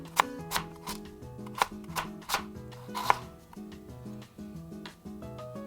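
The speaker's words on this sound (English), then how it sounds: "cutting it into thin half-moon slices" Knife chopping peeled daikon radish into thin half-moon slices on a cutting board, a series of crisp, close chops in an uneven rhythm over faint background music.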